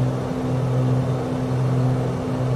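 A Beechcraft Sierra's piston engine drones steadily in Microsoft Flight Simulator, a loud constant hum held at high revs throughout with no talk.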